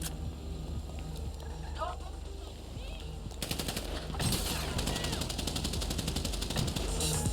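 Rapid bursts of automatic gunfire crackle through a GTA Online street fight, starting partway in and continuing densely to the end over a busy game mix, with someone talking.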